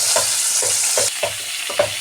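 Ridge gourd roasting in a little oil in a pan, a soft sizzle under five or six rhythmic scraping stirs of a spoon, close and without talk.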